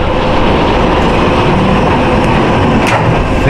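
Arctic passenger train from Murmansk rolling along, a steady loud broadband rumble and rattle of the carriage throughout, with no speech.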